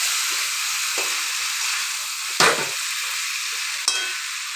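Chicken curry with bay leaves and chopped tomato sizzles steadily in a pan, with two sharper scraping stir strokes breaking through the constant frying hiss and no talking.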